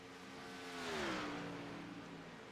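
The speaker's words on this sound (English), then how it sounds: "I heard another car down pit road there" Race car passing down pit road at Indianapolis in a racing game, a faint engine whine rising and falling in pitch as it goes by, heard alone.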